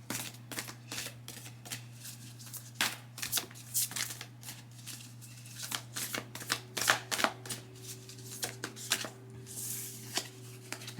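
Tarot cards shuffled by hand in a steady run of soft riffling, flicking and tapping bursts, close and fairly quiet over a low steady hum, with no talking.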